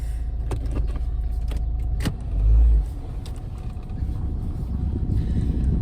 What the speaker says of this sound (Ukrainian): Не з першого разу заводиться машина.